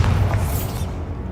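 A Bombarda explosion spell in Hogwarts Legacy lands as a loud, close, low boom that rumbles and then fades away within about a second.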